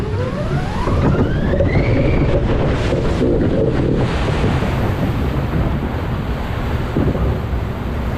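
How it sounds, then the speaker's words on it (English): Water splashing and rushing against a small boat on an amusement park water ride at Southport Pleasureland, loud and continuous with heavy wind buffeting the microphone throughout. "Little bit of a splash, but nothing too bad."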